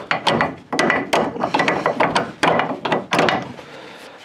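A ratchet wrench clicks in quick rapid bursts while working on a 10mm suspension bolt, the close, sharp pawl rattles repeating in several strokes with short pauses between.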